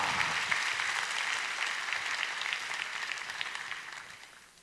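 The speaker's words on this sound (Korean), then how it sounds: "박수 우리 드리겠습니다." A church congregation applauds steadily throughout, a dense wash of clapping that fades slightly toward the end.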